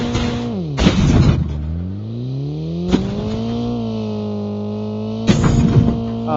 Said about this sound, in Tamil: அந்த வண்டி நம்ம கிட்ட தான் போகுது